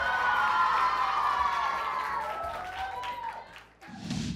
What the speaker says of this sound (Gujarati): અદ્ભુત, જોરદાર તાળીઓ.